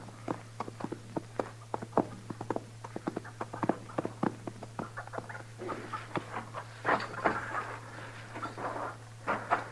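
Horse hooves clip-clop in a 1950s Western radio drama, a steady run of sharp, evenly spaced hoof knocks close by over a low constant hum, gradually looser and busier toward the end, with no voices over them.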